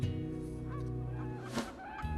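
Migratory geese honk repeatedly at a river confluence, a steady overlapping chorus of calls with some louder honks standing out nearby.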